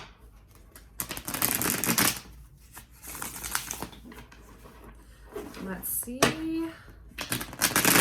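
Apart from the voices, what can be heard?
shuffling tarot cards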